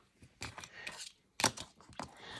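Scissors snip paper while making a junk journal, a few short, crisp cuts in quick irregular succession, close and fairly loud against quiet.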